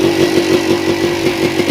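A motocross motorcycle engine at a friendly race runs loud and close, holding a steady buzzing drone with a rapid pulsing throb throughout and no pauses.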